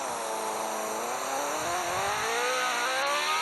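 A car in a Roblox game whines in reverse, its motor drone rising steadily in pitch as it accelerates backward, loud and continuous, with no voices over it.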